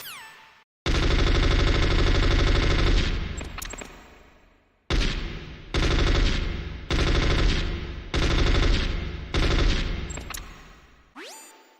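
Long, loud bursts of full-auto fire from an automatic weapon in Metal Gear Solid, one sustained stream followed by five shorter rapid-fire bursts, each tailing off as it ends.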